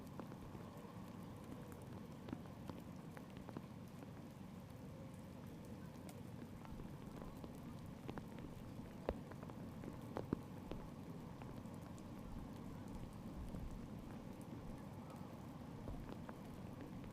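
Rain falling at an outdoor rowing regatta, a faint, steady patter and hiss of drops with occasional sharper taps, continuous and distant-sounding, with no voices.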